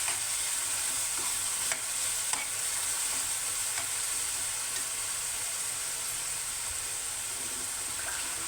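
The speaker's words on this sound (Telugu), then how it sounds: "ఇది కాసేపు వేగించాలి." Food fries and sizzles in a pan, a loud steady hiss close by with faint clicks of stirring, alone with no voices.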